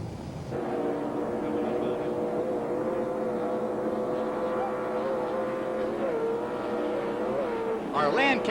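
Offshore powerboat racing at a 1989 APBA event in Fort Myers, Florida: a sustained high-revving engine drone with wavering harmonic tones carries throughout, swelling near the end as a boat passes, with commentary over it.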